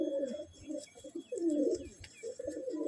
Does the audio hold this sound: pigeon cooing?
yes